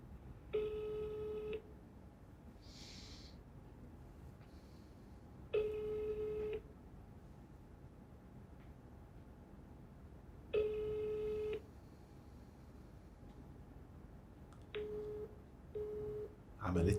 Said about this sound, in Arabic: عملت لي ريجكت يا استاذه فاطمه، هكلمك تاني